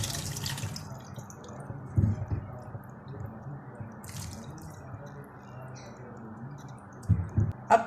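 Cooking water is poured into a pot of chana daal, heard as soft wet splashes and drips in small bursts near the start and end, close by, over a quiet background with no talk.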